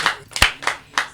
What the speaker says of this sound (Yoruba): ẹ pàtẹ́wọ́ fún baba lẹ́ẹ̀kan sí